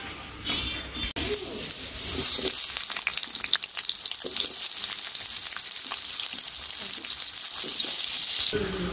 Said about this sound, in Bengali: পনির ভাজা তেলের মধ্যে দিয়ে দেবো আলুগুলো। আলু একটু হালকাভাবে ভেজে নেব।